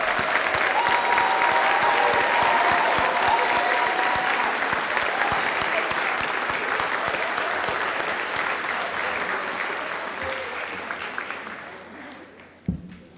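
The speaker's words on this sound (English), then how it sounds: "Please give them a great round of applause." A large audience applauds school staff at an honor society and awards ceremony, sustained dense clapping filling the room for over ten seconds before tapering off at the end.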